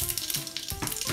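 A spoonful of fennel seeds hits hot oil for a Sri Lankan cabbage fry, producing a loud, close, continuous sizzle and crackle with no voices.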